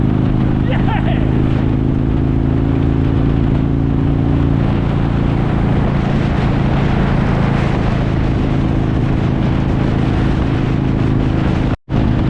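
A loud, constant engine roar and rushing wind from a fast-moving Indian motorcycle in Australia, heard up close, with speech faintly mixed into the noise.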